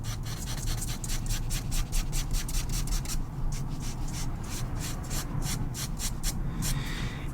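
Charcoal being blended on toned paper for a portrait, a close, quiet rhythmic rubbing with rapid short strokes over a low steady background hiss.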